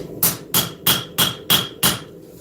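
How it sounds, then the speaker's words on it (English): A hammer rings against hot steel while a knife is forged: six sharp, evenly spaced metallic strikes, loud and close, with no talking. "hit the steel at what point with what side of the hammer"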